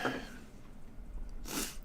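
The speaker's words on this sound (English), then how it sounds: "I don't think I've ever sneezed as many times in a day as I did tonight." One sharp sneeze bursts out close to the microphone, quick and breathy, after a faint intake of breath, with no talk over it.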